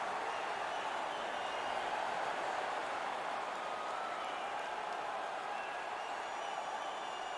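A steady, roaring wash of crowd noise fills an AHL hockey arena during a Calder Cup playoff game, San Jose Barracuda at Lehigh Valley, heard at a distance and constant throughout, with faint commentary underneath.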